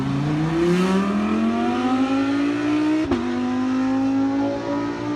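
An Audi R8 GT3 race car's V10 engine howls on track, its tone climbing steadily as it accelerates, briefly dipping at a gear change, then pulling on loud and close.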